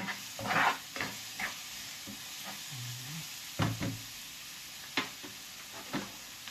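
String beans drop into a hot pan and sizzle under a soft hiss, with several distinct scraping and clattering stirring knocks spaced irregularly through the clip.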